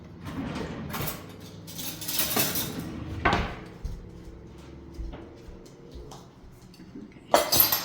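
A metal spoon grabbed from among dishes while making sandwiches, several sharp clinks and clatters of cutlery and crockery scattered through a quiet kitchen, with one loud rattle near the end.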